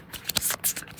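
Playing cards riffle-shuffled by hand during board game setup, a quick burst of crisp flutters and slaps lasting about a second, close and fairly quiet with no talking.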